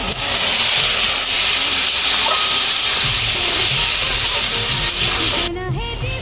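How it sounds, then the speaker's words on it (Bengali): Tarka dal poured into hot, lightly fried spices for egg tarka sets off a loud, sustained steamy hiss close by that cuts off sharply near the end, with no talking. "এবার তরকা ডালটা আমি এর মধ্যে ঢেলে দেবো"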